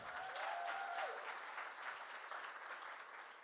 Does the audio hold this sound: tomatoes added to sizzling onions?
no